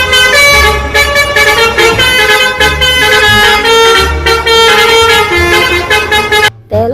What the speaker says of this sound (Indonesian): Ini ada bus telolet.